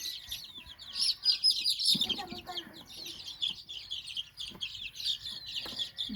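Chickens cluck and chatter steadily at moderate distance, several birds overlapping in short repeated calls, with faint background noise.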